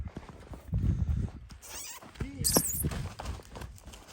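Mare named Tsygana, about 167 cm tall and offered for sale, gives nearby hoof clops and one rising whinny midway, with people talking around her.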